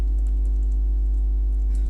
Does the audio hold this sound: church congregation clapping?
no